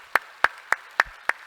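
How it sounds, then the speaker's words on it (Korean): Hands clapping in a church congregation: five sharp, evenly spaced claps about a third of a second apart, fairly close and clear over a quiet background. "우리 박수로 한번 격려하겠습니다."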